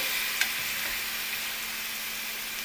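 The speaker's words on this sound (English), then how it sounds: "be mindful of that when you're cooking your salmon" Salmon fillets fry in an oiled skillet with a soft, even sizzle that stays fairly quiet and steady, broken by one faint tap near the start.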